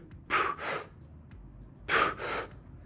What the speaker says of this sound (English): You can hear how I breathe at the top very quickly.